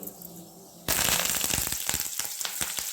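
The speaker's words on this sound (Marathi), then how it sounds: "कढई गरम झालेली आहे आता मी तेल टाकते जिरे" Cumin and mustard seeds hit hot oil in a kadhai while tempering dal-vangi. After a quiet start, a sudden loud sizzle bursts in and keeps up rapid, irregular popping crackles to the end.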